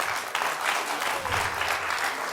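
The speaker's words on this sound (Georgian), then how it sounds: "200 ლარი შენია, აპლოდისმენტები" Studio audience applauding at a Georgian TV comedy game show, a dense, steady burst of clapping for the whole stretch with no voices over it.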